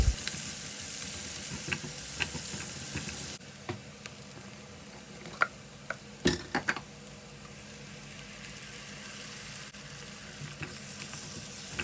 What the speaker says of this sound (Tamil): இப்போ அரைச்சி வச்ச தக்காளியை இதில் ஊற்றிக்கிறேன்